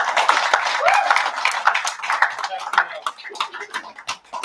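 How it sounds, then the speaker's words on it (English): A round of applause from an audience at an AI and VR production gathering, lively, close clapping with uneven claps and some cheering voices mixed in, carrying on for several seconds. "can we just give a round of applause to first Jess and also our hype man here"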